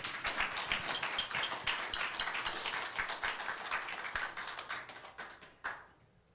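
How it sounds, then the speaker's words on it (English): Audience clapping at a concert, a dense spread of many hands applauding that holds steady and then thins out toward the end, with a few last claps trailing off. "thank you very much for clapping"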